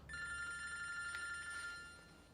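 A telephone bell rings continuously at close range in a domestic scene, a steady trilling that fades toward the end, with no voices.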